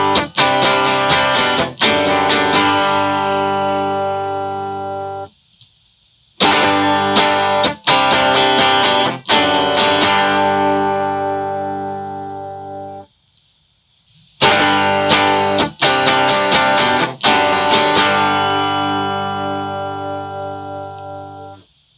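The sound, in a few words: electric guitar through HX Stomp amp, simple EQ off then on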